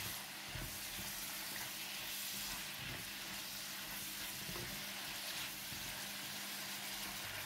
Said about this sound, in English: And continue to stir for 10 to 15 seconds or until well combined.